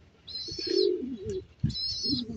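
A light checkered racing pigeon, just back from a 60 km race from San Pablo, Laguna, gives soft low coos near the loft, with two high thin whistling tones above them and no talk.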